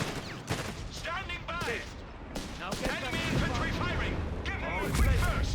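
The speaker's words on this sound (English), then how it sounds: "Shots flying off there." Gunfire and explosions in the real-time strategy game Company of Heroes 3 crackle continuously, with scattered bursts and booms forming a dense battlefield din underneath steady voice commentary.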